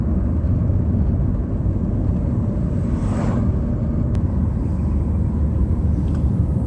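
Vehicle climbing a mountain road toward Boğazova near İnegöl, a steady loud low engine and road rumble from inside, unbroken throughout with a faint whoosh midway, no talk.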